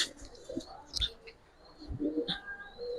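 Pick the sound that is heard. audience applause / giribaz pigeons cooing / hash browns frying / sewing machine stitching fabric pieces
giribaz pigeons cooing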